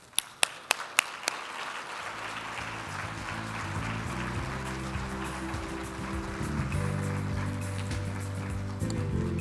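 Applause from a conference audience welcoming a speaker at an energy and infrastructure event, starting with a few sharp claps and then swelling into sustained clapping, with background music or murmur running under it.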